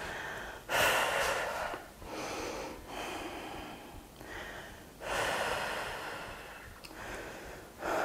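Heavy, rhythmic breaths during a total body fusion workout after quadriceps stretches, a series of long audible inhales and exhales close to the microphone, with no speech.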